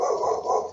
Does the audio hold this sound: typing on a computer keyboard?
no